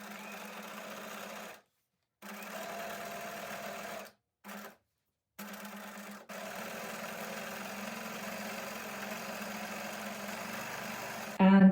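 Sewing machine stitching a red free-motion embroidery outline on stenciled quilted fabric, with a steady motor hum broken by a few short pauses and a brief louder burst at the end.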